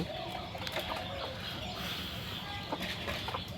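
A brooding hen clucks softly and intermittently against a steady background hiss, with faint rustling of feathers.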